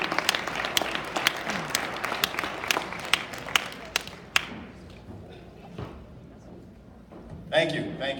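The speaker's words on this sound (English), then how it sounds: "Let's give him a round of applause." An audience claps at an induction ceremony, loud dense applause for several seconds that thins out into scattered claps and thuds, with a few voices in the room.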